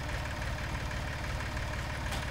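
A tractor engine idles steadily while pulling a log toward a sawmill, a low, even diesel-like chugging rumble with a regular pulse, close by and continuous with no talking.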